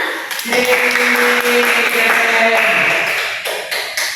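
Classroom applause for a student's correct answer during a maths lesson, a short burst of clapping from a group of students mixed with murmuring voices, fading out after a few seconds.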